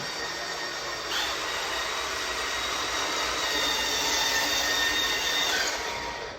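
A 1/16 scale RC M60A3 tank with BB gun runs flat out at its high speed setting, giving a steady, fairly faint high-pitched electric whine and gear rattle that holds without a break.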